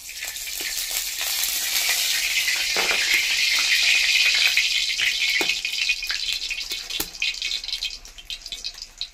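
Fortune sunflower oil heats in a hot kadai over a clay stove, giving a continuous bright sizzling hiss with crackles, near and steady, fading slightly toward the end with no talk.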